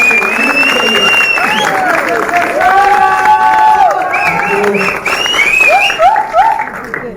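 Audience applause at a business programme in a hotel hall, a loud sustained round of clapping with cheering and voices mixed in.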